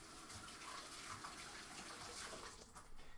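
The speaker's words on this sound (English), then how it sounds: "Let me wash my hands." Hands being washed under a running kitchen tap, a steady gush of water splashing into a sink, close and continuous with slight shifts as the hands move through the stream.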